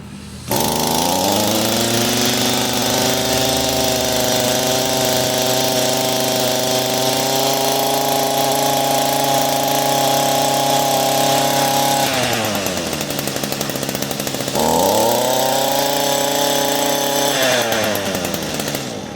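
An Echo SRM-225 string trimmer engine being adjusted for a rich carburetor runs loudly and steadily at close range, its pitch rising as it revs up, dropping briefly near the end, then climbing again.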